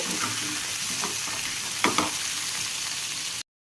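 Eggplant and pumpkin pieces fry in a pan with a dense, even sizzle and a couple of soft stirring clicks before it cuts off abruptly.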